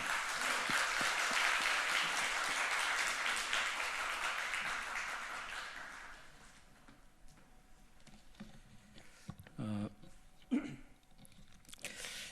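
A church congregation claps in sustained applause welcoming a pastor, fading out after several seconds, followed by quiet room noise and a few faint bumps.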